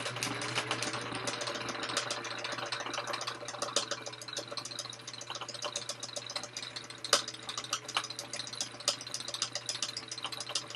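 Sewing machine running a construction stitch across a fabric tote panel, a steady rapid mechanical whirring and clatter heard close and alone, with a small knock near the end.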